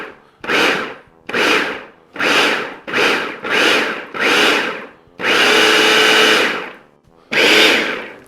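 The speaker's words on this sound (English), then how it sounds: "I'm just cutting them up so that I can get as many into the food processor as possible" Food processor chopping mushrooms in short, loud whirring pulses, seven bursts of about a second each followed by one longer run and a final pulse, with a silent gap between each.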